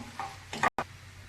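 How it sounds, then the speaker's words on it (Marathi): Mashed potato stir-fries in a spiced tempering for vada pav filling, giving a brief sizzle and a couple of spoon scrapes in the pan, cut by a short gap. "आता आपण हे फोडणीमध्ये आपले हे मॅश केलेला बटाटा टाकूया, परतून घेऊया चांगलं"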